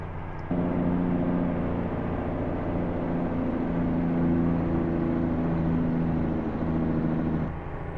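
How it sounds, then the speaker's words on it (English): Steady mid-pitched car engine drone from a driving video game on a Mexico City map, holding a constant hum throughout with slight pitch shifts, no talking. "Just listen to the engine"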